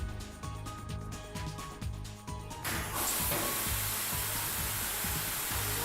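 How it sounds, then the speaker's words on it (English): A steady, loud spray of non-aggressive wet chemical liquid from a Volvo machine's fire suppression sprinkler bursts on after a couple of seconds of rhythmic machine rumble, hissing continuously to the end. "By pushing this button, the sprinkler system starts spraying immediately"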